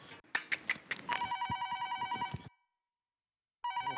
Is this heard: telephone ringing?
yes